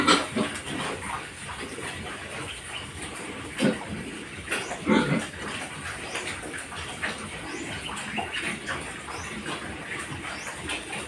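A pig being raised on a farm, close grunts and snorts scattered over a low, noisy pen background, with a few louder bursts partway through.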